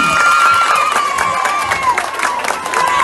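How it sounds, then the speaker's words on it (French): A crowd cheers and applauds continuously with shouts and whistles, a dense, loud roar of many voices and hands lasting the whole stretch. "Maintenant, on applaudit d'être mon corps parce que papa a fait plus."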